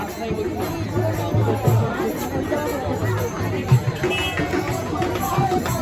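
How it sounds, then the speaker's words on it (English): A crowd outside a restaurant in Bolpur chatters in a steady, busy babble, with people nearby talking over it throughout. "Look at the crowd, guys."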